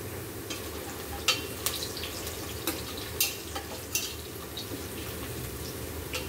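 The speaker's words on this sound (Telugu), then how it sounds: "ఉల్లిగడ్డ ముక్కలు వేగుతున్నాయి." Onion pieces frying in a steel cooker for chicken biryani, a soft steady sizzle with scattered sharp scrapes and taps of a stirring spoon against the metal.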